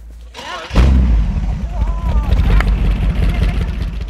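A Boss Hoss motorcycle starts up and settles into a loud, deep, rumbling idle close by, with a voice speaking briefly over the start.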